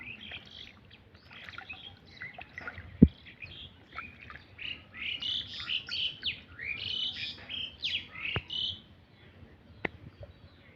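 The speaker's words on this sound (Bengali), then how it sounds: "তো এটা হলো আমার কোরা পাখি" A watercock calls repeatedly in the 2–5 kHz range, a bright chorus of short notes over faint insect-like background hum, with a few sharp clicks.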